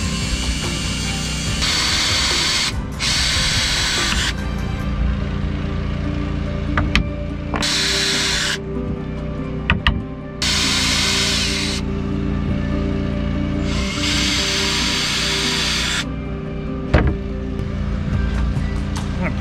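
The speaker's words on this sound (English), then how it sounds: "I should countersink with just a larger drill bit" Power drill boring holes for brass cup hooks into a wall aboard a sailboat, several separate bursts of whirring lasting a second or two each over a steady engine-like hum.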